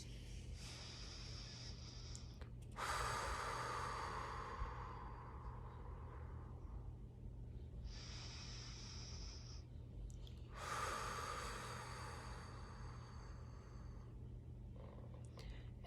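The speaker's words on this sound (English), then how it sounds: "Let's take a few more deep breaths." Slow, deep breathing during a guided meditation, with two long breaths in and out, each followed by a shorter breath, close and quiet over a low steady hum.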